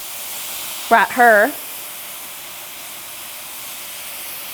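Liquid goes into a hot pan of browned tofu and a steady hiss of steam and sizzle carries on underneath, while a voice speaks briefly over it.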